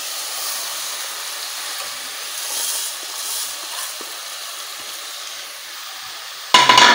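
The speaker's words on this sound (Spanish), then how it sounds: "Entonces, vamos a poner el arroz." Rice is poured into a pot of sizzling garlic and stirred, giving a steady broad frying hiss with soft scraping, then a sudden louder burst of sizzle and clatter right at the end.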